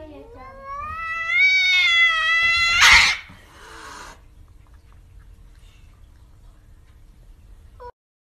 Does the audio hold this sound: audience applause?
no